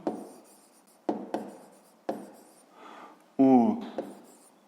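A pen scratches on paper in a few short separate strokes during a 5th-grade maths exercise, close and quiet, with a voice briefly heard between them.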